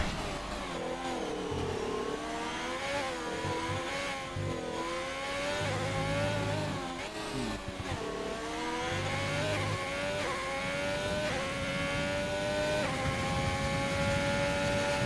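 Ferrari Formula 1 car in a racing video game at Abu Dhabi, its engine a loud, steady, high-pitched whine that climbs and dips through gear changes and holds close and continuous throughout.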